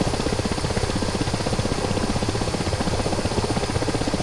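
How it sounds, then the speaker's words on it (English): A video game helicopter on a Vergeev Group mission thrums with a loud, steady rotor chop and engine whine, close and unbroken throughout. "as you increase the speed of the helicopter, you get more lift off of the wing stubs"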